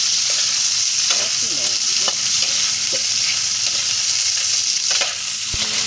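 Steady, loud sizzling of kuyamas adobo stir-frying in a pan after chili and soy sauce go in, with occasional scrapes and clinks of a spatula stirring throughout.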